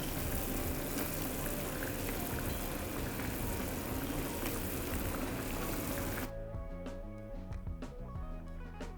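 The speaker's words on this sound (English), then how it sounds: "now we cover it and let it simmer for 45 minutes" Pork ribs humba with dried banana blossom simmering in a covered pot, a quiet steady bubbling hiss that drops away after several seconds into softer, tonal kitchen sounds.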